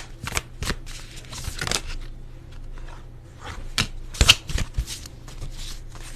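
Oracle cards being shuffled by hand during a pick-a-card tarot reading, a close, steady run of riffling and sliding card noise with a few sharper snaps, heard alone without talk.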